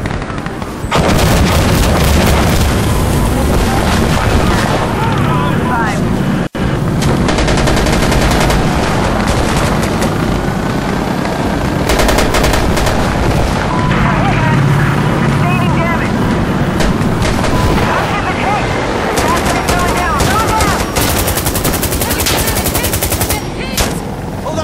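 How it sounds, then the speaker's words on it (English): Incoming rockets and explosions in the shooter game Insurgency Sandstorm on the Tideway map: loud, dense, continuous gunfire and blasts crowd the whole stretch, with voices mixed into the chaos. "rockets incoming"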